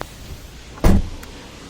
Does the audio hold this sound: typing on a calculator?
no